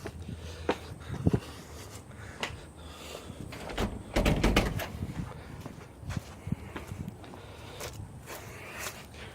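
The front door of an abandoned house is tried and pushed open, with scattered knocks, rattles and footsteps leading to a louder burst of handle and frame clatter midway, then quieter shuffling, with no talking.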